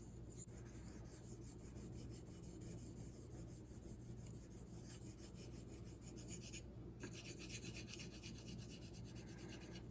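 A kitchen knife is rubbed across a budget Thleite splash waterstone, a soft, steady gritty rasp of repeated back-and-forth strokes, close and quiet, with no voice over it.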